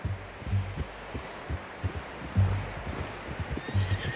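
Horse hooves clop steadily at a trot in the video game Red Dead Redemption 2, beneath a rumbling, pulsing background, with occasional heavier thuds and no speech.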